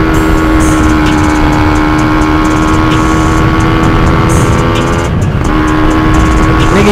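A Kawasaki Ninja two-stroke motorcycle with a ported engine and a PWK 33 carburettor on a test ride, its loud, steady engine note held high and continuous near the rider, with a brief dip around the fifth second.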